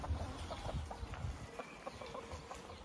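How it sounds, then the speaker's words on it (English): Backyard chickens clucking softly while being put away for the evening, a loose run of short low clucks at moderate distance with steady background noise. "there's Gloria putting the chickens away"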